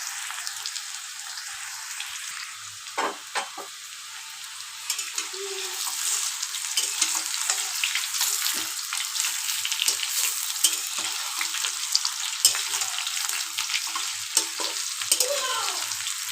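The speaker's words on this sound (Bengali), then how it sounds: "আলুটা একটু ভাজা হোক" Potatoes frying in hot oil for a winter-style new-potato aloo dum, a steady close sizzle with occasional stirring scrapes, no voices.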